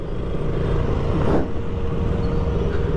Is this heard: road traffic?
yes